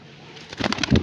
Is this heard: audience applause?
no